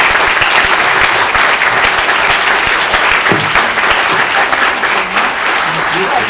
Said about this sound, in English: A round of applause for the wonderful talent in this room.